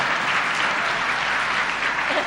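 Literature festival audience claps in a steady, moderately loud wash of applause that carries evenly across the whole moment with no speech over it.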